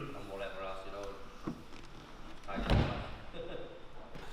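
A Lamborghini Diablo driver's door is worked open and shut, giving one solid thud partway through while voices talk over it.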